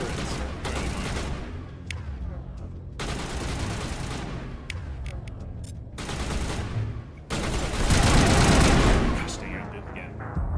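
Turret gunfire in Mass Effect: sustained dense rapid-fire bursts and booming impacts rolling almost continuously, with brief gaps between volleys and the heaviest barrage near the end.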